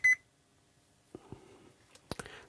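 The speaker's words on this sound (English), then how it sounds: "this is also beeping when it gets to ground" A continuity tester gives one short, loud electronic beep at the start while probing the chassis of a Gibson 101 combo organ, followed by quiet handling clicks and a few knocks.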